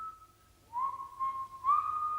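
A man whistles a short, casual tune alone in a quiet room, a clear thin tone that slides upward and wavers through a few brief phrases with no talking.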